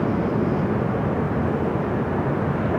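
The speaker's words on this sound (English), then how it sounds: "A380 Super making that right-hand turn on to Kilo" An Airbus A380 taxiing at LAX, turning onto a taxiway, gives a steady, broad jet-engine rumble with low roar, constant in level and uninterrupted, no voices over it.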